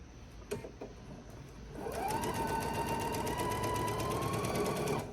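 A sewing machine stitches fabric for a reversible bag, running forward and backward in short securing passes; after a couple of faint taps, a steady close motor hum with rapid regular needle clicks runs for about three seconds.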